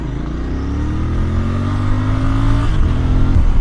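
A Royal Enfield Bear 650 scrambler motorcycle with a 650 twin accelerating on an Indian road, its deep engine note climbing steadily and loud and close from start to end, with no speech.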